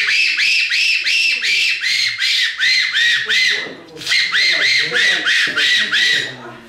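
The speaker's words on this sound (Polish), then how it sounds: "To jest wabik, który wymyślili, w zasadzie pierwotnie to był gwizdek." A hunting call lure that began as a shepherd's whistle used in Australia, blown in a rapid series of loud, close, piercing chirps in two bursts with a brief pause between them.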